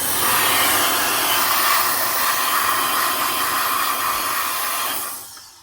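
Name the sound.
small air blower running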